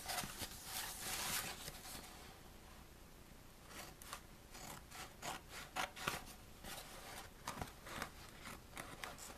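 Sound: scissors cutting carbon fiber wrap

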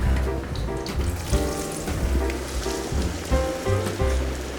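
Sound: onion frying in a wok

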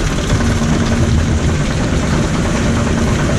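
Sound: spinning mouse roller coaster climbing the lift hill

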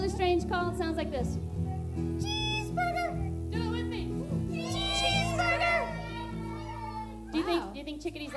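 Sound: voice imitating a chickadee's strange call

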